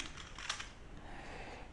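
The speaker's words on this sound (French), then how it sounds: "clavier." Someone types on a computer keyboard while writing code, a short, faint run of soft key clicks with one sharper tap near the start.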